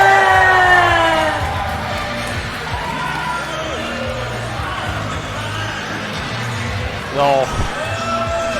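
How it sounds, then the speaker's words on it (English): Crowd cheering and shouting at a chessboxing ring walkout during a St Patrick's Day event, loudest at the start, with an announcer talking over the noise. "Here he is, give him another cheer, John the Brick Word!"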